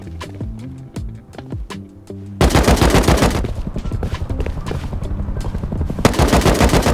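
Gunfire in the video game Rust: a few spaced single shots with clicks, then a sudden loud burst of rapid automatic fire that continues almost unbroken, close and dominant.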